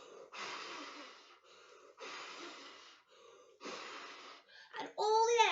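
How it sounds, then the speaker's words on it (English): Air blown in several long breathy puffs through a paper tube on a tissue-paper dragon craft, close and fairly loud, with short pauses between bursts and a squeaky voiced sound at the end. "to make it a fire-breathing dragon, all you need to do is blow down your tube"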